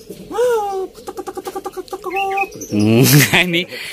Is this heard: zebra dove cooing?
yes